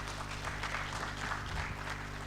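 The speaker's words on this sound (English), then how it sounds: "Can you applaud him once again?" Audience applause in a hall at an engineering week conference in Abuja, a faint, distant, continuous wash of clapping over a steady background hum.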